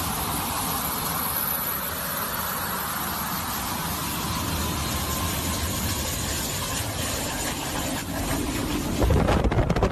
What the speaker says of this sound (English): This Boeing 737-400 blasts now into the cameraman while taxiing.